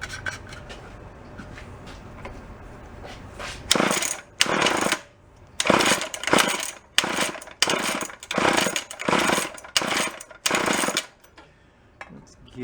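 An antique gas-powered drill engine is pull-started repeatedly, a series of rough, loud ratcheting bursts of cord yanks and sputtering turnover, each lasting about half a second with short gaps between.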